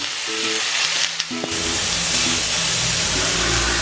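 Chicken pieces for Creole chicken fry in a pan, a steady loud sizzle with crackling hiss running throughout, close and continuous, with no voices.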